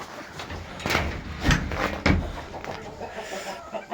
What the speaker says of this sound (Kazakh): Мынау жаңа тауық жатқан.